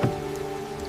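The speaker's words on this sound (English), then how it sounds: "The rain is getting much worse now." Rain falls steadily on a stranded car and the road around it at dusk, a dense, even hiss close by that runs for about a second with no other sounds.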